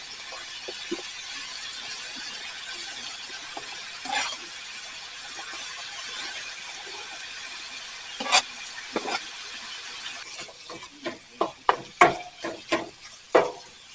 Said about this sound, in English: Just let that fry up until the hamburger is brown and done, and by then the onions should be pretty soft